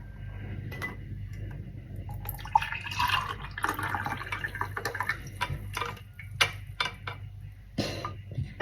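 Tea and milk mixture strained and poured in a home kitchen, giving a soft, close trickle and dripping of liquid with light clinks of utensils, no talking.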